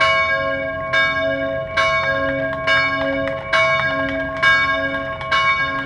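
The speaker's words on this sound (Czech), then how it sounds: "Umějí tady i mlátit do zvonu." A church bell at Our Lady of the Rocks in the Bay of Kotor struck repeatedly in a slow, steady rhythm, each clang ringing out and decaying with a sustained hum beneath.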